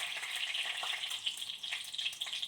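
Steady bright sizzling of curry leaves sautéing in hot oil, crackling continuously at moderate volume with no voices.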